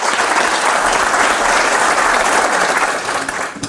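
An audience at a DeakinCo learning-team event claps for a speaker just welcomed on stage, a dense, steady wash of applause lasting throughout and tapering slightly at the very end.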